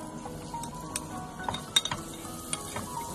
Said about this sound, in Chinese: 开小火让它慢慢的煎，千万不能开大火